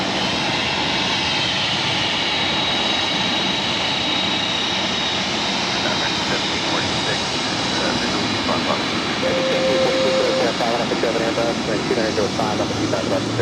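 A jet airliner takes off from runway 25 right at LAX, its engines a sustained, loud, even roar that stays strong from start to finish.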